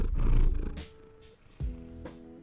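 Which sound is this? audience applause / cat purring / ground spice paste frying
cat purring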